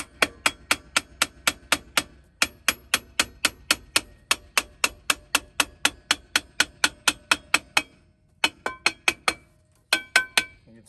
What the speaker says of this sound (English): if you hold a little bit of applied pressure toward you and tap it, you'll see the thing kind of advance